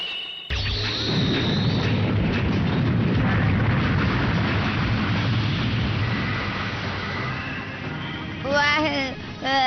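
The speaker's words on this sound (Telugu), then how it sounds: "ఇప్పుడు అది పేలి ముక్కలైపోతుంది" A big cartoon-style boom bursts out suddenly and rumbles on for several seconds, loud and close, before a few bright warbling squeaks at the end.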